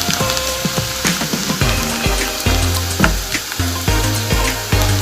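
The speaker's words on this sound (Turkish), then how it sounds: "Şimdi kavrulan soğanlarımızın içine salçamızı koyup biraz kavuracağız." Onions and tomato paste fry in a pan with a steady, close sizzle, broken by repeated spoon scrapes and knocks against the pan at an uneven rhythm, with no voices.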